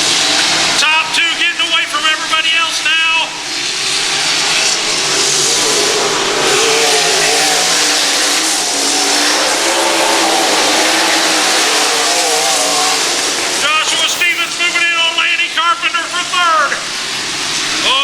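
Sprint cars race on a dirt track at a Northwest Missouri county fair, engines snarling and rising in pitch as cars pass close by, with a steady crowd-like roar between the passes and an announcer talking over it.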